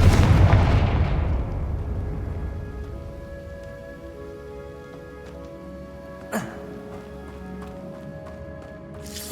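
Confringo spell blast in the video game Hogwarts Legacy, a loud booming burst at the start that decays into a low game ambience with a sharp crack a few seconds later.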